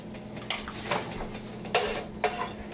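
Crushed fennel seeds fry lightly in about four tablespoons of hot oil in a pan, a soft sizzle underneath with a few sharp stirring scrapes and utensil clinks; no one speaks.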